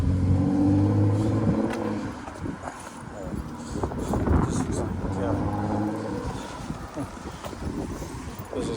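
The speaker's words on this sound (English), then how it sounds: "there's the bus going back" A bus drives past on a town street, its engine rumbling and rising then fading over several seconds amid outdoor street noise, with people talking nearby.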